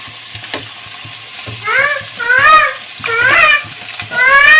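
Chicken liver fry sizzles in a hot pan with turmeric as it is stirred, steady frying hiss with scraping strokes and bursts of sizzle swelling every second or so, close and fairly loud with no talk.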